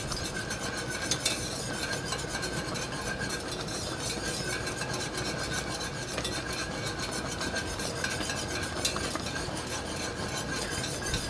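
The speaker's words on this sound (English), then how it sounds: "Now, we want to stir it and let it sit at this rolling boil for 1 minute." Watermelon jelly being stirred at a rolling boil in a pot, a steady scraping and rubbing of the spoon against the pan with a faint bubbling sizzle underneath, continuous and close throughout.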